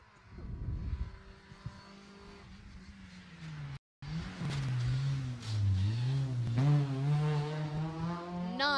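A low-power rally car on a closed stage at the Jersey Rally, engine note climbing and falling through gear changes as it approaches and passes at speed, loud and close with no talk over it.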